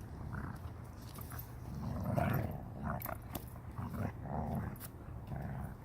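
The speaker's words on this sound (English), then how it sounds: "Puppy play." Puppies playing rough together, with continuous low growls and snarls rising and falling over about six seconds, close and fairly loud, with no talking.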